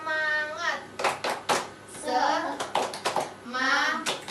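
Schoolchildren in an elementary science class chant together and clap in the tepuk semangat routine, a few sharp hand claps landing between their loud voices.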